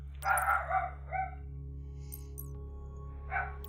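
A dog barks a few times at close range indoors, in short yips and barks over a low steady hum, with a pause before one last bark.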